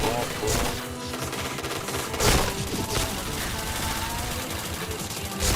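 Rapid bursts of gunfire from a shooting video game, dense overlapping shots and crashes at moderate level, continuous with a few sharper peaks.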